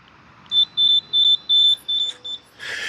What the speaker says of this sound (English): And that beeping on the gate,